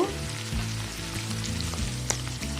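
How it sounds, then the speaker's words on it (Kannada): Ingredients for hotel-style bisibele bath frying in a pan, with a steady close sizzle and a low rumbling hum underneath, and occasional faint stirring clicks. "ಇದನ್ನು 2 ನಿಮಿಷ ಫ್ರೈ ಮಾಡ್ಕೊಳ್ಳಿ."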